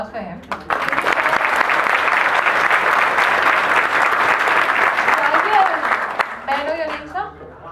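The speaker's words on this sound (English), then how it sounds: "so a huge round of applause for him" An auditorium audience at a campus speech event gives a long, loud round of applause that swells quickly, holds steady, then thins out toward the end, with a voice briefly heard near the start and finish.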